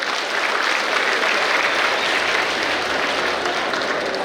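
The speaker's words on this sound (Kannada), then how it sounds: "ದೊಡ್ಡ ಚಪ್ಪಾಳೆ" A large audience breaks into loud, even applause at a public campaign event for a drug-free India and organ donation, a steady wall of clapping with no voices above it.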